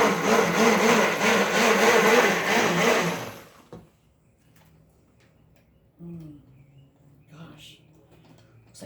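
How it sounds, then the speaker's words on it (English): A stick blender whirs loudly through thick cocoa soap batter for a few seconds, then cuts off, leaving quiet room tone with a few soft clicks and brief low sounds. "I'm going to hit it again with the stick blender."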